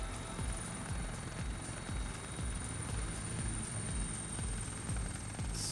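Simulated helicopter in a flight simulator game, a steady low rotor chop thudding rhythmically over a constant broadband engine whine, loud and continuous throughout with no talk.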